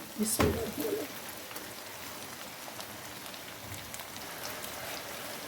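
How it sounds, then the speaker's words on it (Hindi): Ground onion paste fries in a pan, giving off a faint, steady sizzling hiss after a brief knock at the start. No one talks over it. "और इसको हम भूनेंगे तब तक जब तक कि इसका थोड़ा सा कलर चेंज हो जाए"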